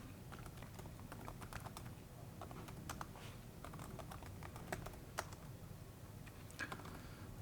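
Soft, quiet typing on a computer keyboard: irregular clusters of key clicks continue throughout with no voice over them.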